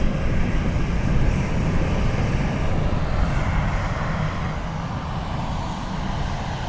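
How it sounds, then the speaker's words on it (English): British Airways Embraer jet departing Dublin Airport, a loud, close, steady engine roar that holds throughout and eases slightly toward the end. "BA Embraer heading back to London City."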